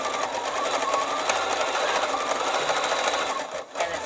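A Bernina B880 sewing machine driven by a foot pedal stitches with its stitch regulator, a close, continuous rapid whirr that dips briefly near the end.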